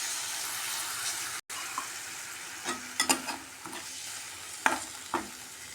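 Water hits a hot tempering in a pan while it is stirred for a curd curry (mosaru saaru): a soft steady sizzle with scattered scraping stirs and brief bubbling, fairly quiet, with no talking.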